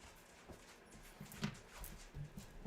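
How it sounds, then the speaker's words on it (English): A dog whimpers softly and paws at a door, faint scratches and thumps coming in short irregular bursts close by, with no talking. "My dog is knocking on the door."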